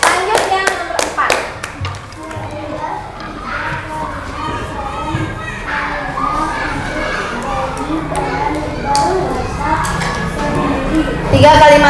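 Schoolchildren in a classroom clap for a group, a burst of quick hand claps at first that thins into scattered taps under children's chatter and a teacher's voice.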